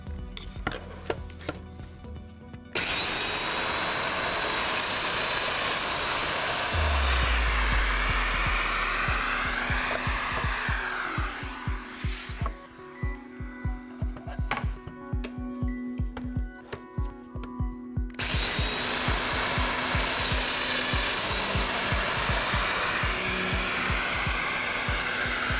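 Festool DF 500 Domino jointer plunging into a wooden workpiece, a loud, steady high-pitched motor whine running almost continuously, with a brief break in the middle where the tone drops and fluctuates before resuming at full strength.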